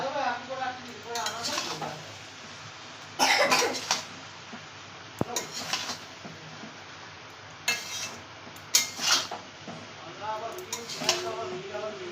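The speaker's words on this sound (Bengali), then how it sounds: "এখন আমি সুন্দর করে নাড়িয়ে নেব" Cooked rice stirred in a pan for fried rice, with intermittent scraping bursts of a utensil against the pan over a faint sizzle, heard close and moderately loud, with occasional other kitchen noises.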